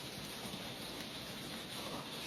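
Steady rain falls outdoors in a constant broadband hiss, close and even, with no voices over it.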